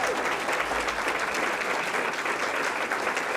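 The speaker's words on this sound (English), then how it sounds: "let's give them a round of applause for the work they do." Sustained audience applause at a regional chamber of commerce gathering, dense and even clapping from a room full of people, continuous and fairly loud with no speech over it.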